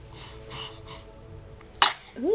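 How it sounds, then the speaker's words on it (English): A single sharp, close sneeze bursts out after a few seconds of quiet talking, and a voice resumes right after it. "Just one sneeze? They usually come in pairs."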